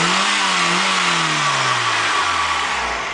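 An Eagle Talon engine revs during a Seafoam treatment, a steady close engine roar whose pitch drops slowly as the revs fall, with no talking.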